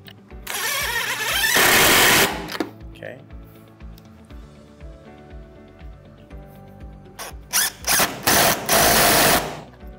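A power tool tightens windshield mounting bolts on a Polaris Pro XP in two loud, whirring bursts, one early and one late, with a short spoken word between them.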